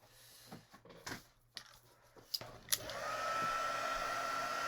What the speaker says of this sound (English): If I can find my heat gun, it's way over here.